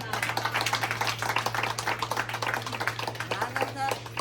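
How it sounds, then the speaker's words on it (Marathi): An audience claps together for a woman being honoured at a Women's Day felicitation, with steady, dense applause running the whole time and a low mains hum beneath it. "तर कुंभार मॅडमसाठी सगळ्यांनी टाळ्या वाजवा"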